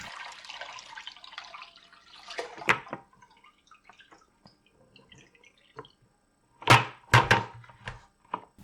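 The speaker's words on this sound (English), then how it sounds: "Transfer the fermented liquid into the container." Fermented homemade citrus vinegar poured into a container: a steady splashing pour for about three seconds, then quiet with a few soft drips, followed by several sharp, close clinks and splashes near the end.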